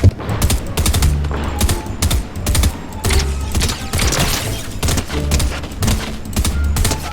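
A video game firefight plays out in dense rapid bursts of automatic gunfire, close and loud, with brief pauses between volleys and no talk.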